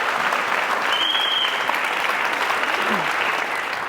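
A studio audience at a televised courtroom-style talk show claps loudly and continuously, a dense wash of applause lasting the whole moment.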